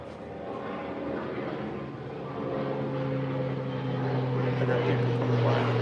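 A propeller airplane drones overhead outdoors at night, a low steady hum that swells louder toward the end, with faint crowd noise and distant fireworks in the background.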